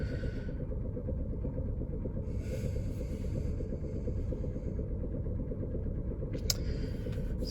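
A warmed-up 2007 Toyota Prius engine with 278,000 miles idles unstably, giving a continuous low rumbling drone that stays close and steady, with faint higher hiss drifting in and out and no talk.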